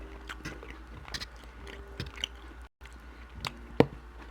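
Biting into and chewing Wagyu beef liver close up, soft moist squishing chews in a loose rhythm with a sharper wet bite near the end, a brief silent gap midway, no talking.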